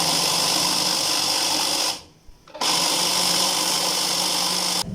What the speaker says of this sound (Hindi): मैंने इसमें दूध ऐड किया, अब इनको ग्राइंड करूँगी।